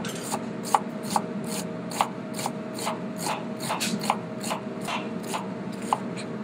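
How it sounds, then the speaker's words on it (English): A knife chops an onion on a cutting board while preparing a Bolognese sauce, a steady series of about a dozen crisp, close taps with soft scraping between strokes. "I keep my knife on the angle so it doesn't slice all the way through"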